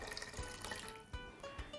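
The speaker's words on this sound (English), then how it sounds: "I'll begin by adding some water into a pot" Tap water filling a cooking pot for boiling pasta, a continuous close splashing stream with small gurgles and no voices.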